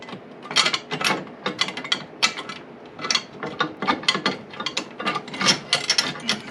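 Ratchet wrench clicking steadily as it tightens a lock nut on a long carriage bolt holding a skid plate to a 2021 Yamaha Grizzly 700 ATV; rapid, close, irregular bursts of metallic clicks with no talking.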